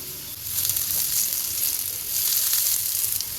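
Potatoes toasting and frying in a pan give off a steady, close sizzle with faint crackles, continuous and even throughout, with no talking.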